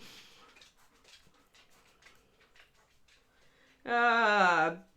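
A pet dog named Kiki gives a sharp whimpering whine near the end, loud and close, after a stretch of quiet low background sounds.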